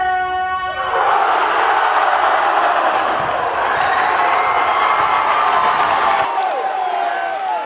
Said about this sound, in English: It is a raucous crowd here